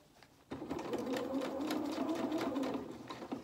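A sewing machine starts up and runs steadily, stitching a sleeve seam on a Luna Lapin T-shirt dress, a close, continuous mechanical whir with a faint rhythmic rattle after a quiet moment.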